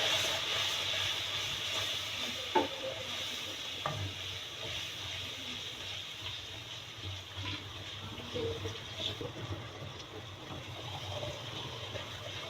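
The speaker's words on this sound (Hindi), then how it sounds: "मसाले को अच्छी तरह भुनना चाहिए" Spice paste of turmeric, chilli and coriander with a little water sizzles steadily in a pan, a soft continuous frying hiss with occasional stirring clinks and scrapes.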